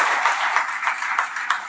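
Enthusiastic applause from an audience at a school coaching-institute event, steady dense clapping with a few sharper claps standing out, fairly close and continuous without speech.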